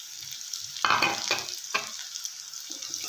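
Onions and tomatoes frying in a pan for horse gram curry, a soft sizzle broken by a few louder spatula stirs and scrapes near the middle, close but moderate in level, with no speech.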